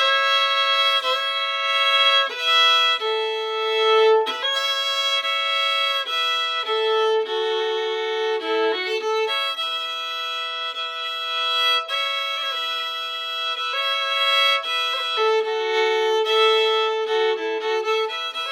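The B part of the old-time tune Liza Jane rings out as a clear solo melody, with a steady, easygoing rhythm of bright sustained notes and no talk.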